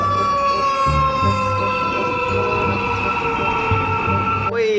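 A fire truck's loud, steady wailing siren holds a sustained tone over a rumbling engine, cutting off abruptly near the end.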